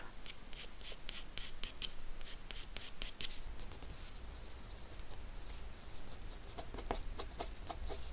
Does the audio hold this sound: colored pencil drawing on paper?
yes